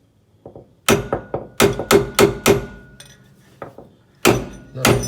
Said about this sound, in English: Give it a thump.